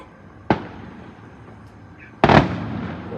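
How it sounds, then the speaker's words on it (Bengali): Two sharp firecracker bursts go off close by during a festive gathering, a single crack followed seconds later by a louder, longer blast with crackling tail, over low background murmur. "অন্য কোথাও তো হচ্ছে না এখানেই বাজি ফাটছে"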